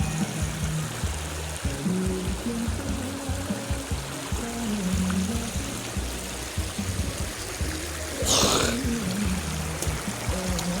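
The Xe Lanong river flows past a long bamboo bridge in Laos with a steady, broad rushing and trickling of water throughout, and a short louder splash near the end.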